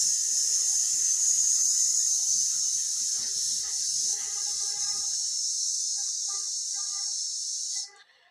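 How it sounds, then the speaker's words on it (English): A steady, forceful hissing exhale held for about eight seconds as a breath-control exercise in vocal training, loud and close, with faint vocal tones underneath before cutting off abruptly. "you're gonna inhale and exhale with a sound"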